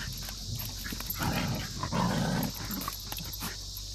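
A dog panting and snuffling close to the microphone by a lake, breathy huffs rising and falling over a steady outdoor background hum, with no one talking.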